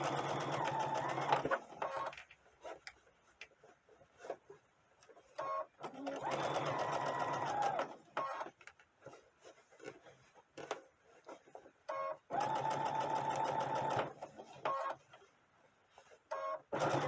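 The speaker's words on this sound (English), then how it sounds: "I'm going to just put my needle down and I'm going to sew." A sewing machine stitches doll clothes in several steady whirring runs with short pauses between, close and fairly loud, with no one talking.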